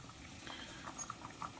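Water coming to a boil in a pot while mutton is cooked, a faint soft bubbling with small irregular pops over a low steady hiss, no voices.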